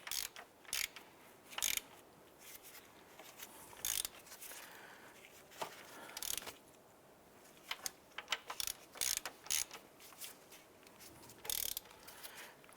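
Ratchet wrench tightening intake manifold bolts on a 2011-2019 Ford Fiesta, quiet bursts of rapid clicking repeated in short runs with pauses between strokes, close and fairly faint.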